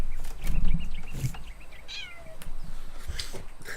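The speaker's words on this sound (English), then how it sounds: "You probably heard of the little meow as Lauren grabbed her." A small cat meows several times in short, high, slightly rising calls, fairly close and clear, with brief pauses between them and faint background rustle.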